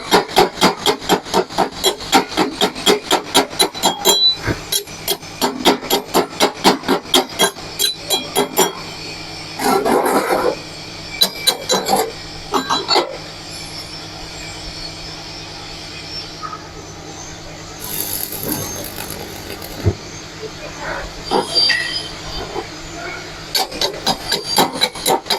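Metalwork on a vise jaw, with nuts and bolts being tightened after welding, heard as bursts of rapid rasping and ratcheting strokes broken by brief clinks and pauses, close and loud throughout.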